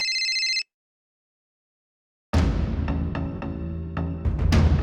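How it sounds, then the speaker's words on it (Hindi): A telephone rings once with a bright electronic trill, then silence, followed by a noisy room with clatter and rustling. "डॉक्टर उषा का फोन।"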